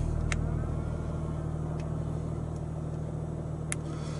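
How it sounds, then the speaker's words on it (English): A Jaguar XJ car idling after a push-button start, a steady low engine hum with faint ticks, close and continuous with no voices. "To start the vehicle, you just press and hold the button."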